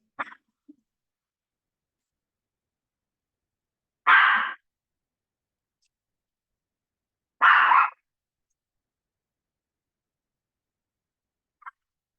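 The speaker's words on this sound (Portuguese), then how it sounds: "E a minha cachorra está latindo, querendo participar aqui do curso." A pet dog barks indoors during an online class: two loud, separate barks about three seconds apart, with a few faint short yelps at the start and end and silence in between.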